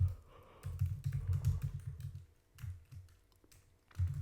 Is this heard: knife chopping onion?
no